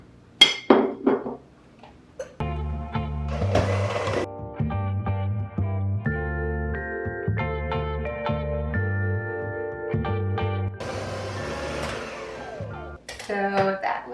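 Unsalted butter and white sugar are creamed in a bowl by an electric mixer, which gives a loud, steady motor whir. Clinks sound against the bowl at the start and near the end.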